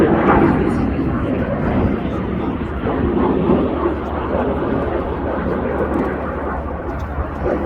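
Red Arrows Synchro pair jets pulling into the Cyclone manoeuvre at an air display, a loud continuous roar of jet engines that holds steady throughout, with crowd and commentary noise blended underneath.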